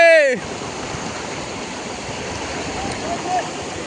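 Floodwater current rushing past in a severely flooded area of Ratanpur, Hailakandi, a steady broadband roar that fills the scene, with a brief voice at the very start before the water noise continues alone.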